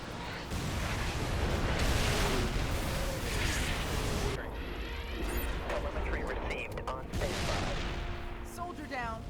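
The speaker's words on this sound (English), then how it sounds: "Right out the gate, there are 2 wraiths that are destroyed pretty easily with the handy artillery." Artillery blasts tear into Wraith tanks in the Halo: Reach video game, making dense, rumbling explosive bursts that roll on for several seconds before a quieter stretch with scattered pops and sharp clanks.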